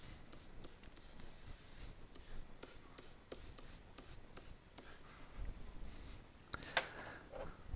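A pen writes on a board during an algebra lesson, with close scratchy strokes in quick bursts and short pauses between them, no talking.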